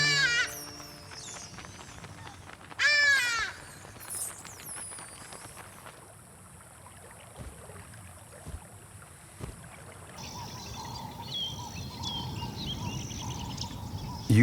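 Ibises give shrill, harsh calls while flying over an African wildlife park, with a few loud overlapping cries early on that fade into steady outdoor ambience of wind and distant water.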